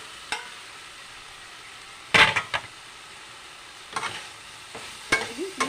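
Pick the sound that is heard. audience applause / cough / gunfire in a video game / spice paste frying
spice paste frying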